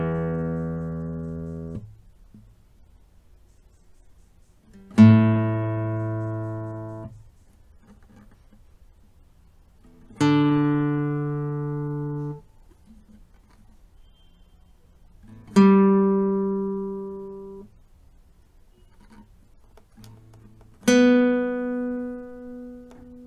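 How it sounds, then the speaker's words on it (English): Six open strings of a classical guitar tuned to E A D G B E, each plucked singly at roughly five-second intervals and left to ring out and decay, clear and close with no talk. "Now let's hear what these tuned strings sound like when we pluck them."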